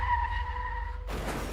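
A car skids in a road accident, a sustained tonal tire squeal lasting about a second, then breaking off into a burst of rough, noisy crash-like sound.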